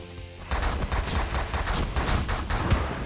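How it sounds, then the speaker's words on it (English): A wall turret in The Last Federation fires a steady stream of bullets, a fast string of sharp, moderately loud shots with a light rattling texture. "That's what's shooting all those bullets."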